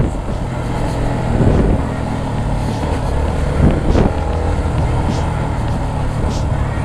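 A Yamaha Sniper 150 motorcycle with a fault has its throttle squeezed, and the engine gives a steady, rough rumble with uneven surges and sputters close by, while a voice is faintly heard under the noise.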